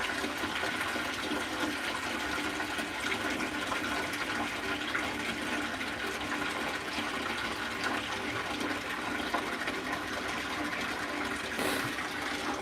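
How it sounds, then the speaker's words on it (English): Water flows steadily at a fairly quiet level, an even hiss and gurgle that continues for the whole stretch with no talking. "I heard the water flowing"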